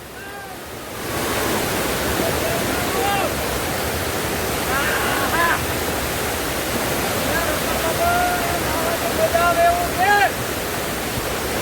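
Loud, steady roar of heavily rushing water over the overflowing Shetrunji Dam spillway in Gujarat, starting after a second, filling the whole clip, with faint birdlike chirps and whistles above it.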